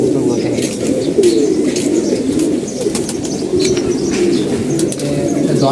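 Pigeons newly paired after six months apart, a dense close chorus of low throaty cooing with soft rustling and occasional chirps throughout.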